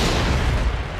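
A dynamite explosion in the video game Assassin's Creed Syndicate, a single loud, dense boom with heavy low rumble that sustains without a break for about a second.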